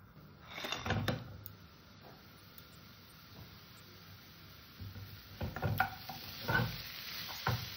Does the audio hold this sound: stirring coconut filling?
yes